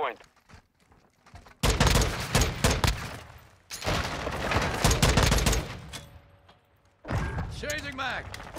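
Gunfire in the video game Call of Duty: Modern Warfare II: long, dense bursts of rapid automatic shots, heavy and close, mixed with game noise and a person talking between and over them.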